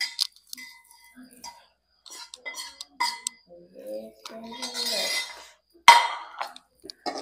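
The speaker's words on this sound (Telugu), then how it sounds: "ఆయిల్ చల్లారింది, అది ఇందులో కలుపుకుందాం." A spoon stirs cooled oil into an amla pickle in a bowl, producing sparse, close clinks, scrapes and soft wet mixing sounds separated by quiet gaps.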